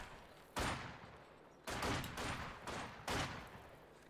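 Sturmgewehr assault rifles and Kar 98 bolt-action rifles firing in a Company of Heroes 2 battle: three sharp bursts spaced apart, each decaying slowly into a continuous rumble, with no one talking.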